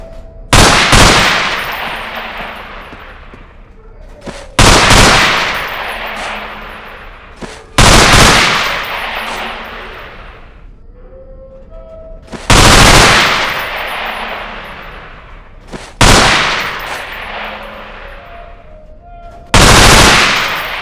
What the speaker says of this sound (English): Let's get to the submachine guns now. Pick up that MP5.